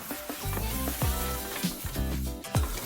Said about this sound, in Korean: 중간불로 달군 팬에 버터를 녹이고 양파를 넣은 후 숨이 죽을 때까지 저어주다 소금과 후추로 간을 한다.